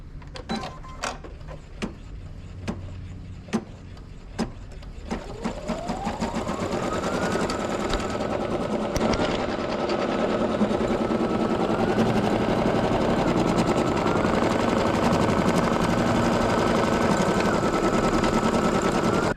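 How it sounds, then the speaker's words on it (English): A Brother NQ3600D embroidery machine starts stitching a design with a few sharp clicks, then settles into a loud, steady, fast mechanical whirr with a constant motor hum, and no voices. "I just lower my presser foot either back here or right here, hit set, and I'm ready to go"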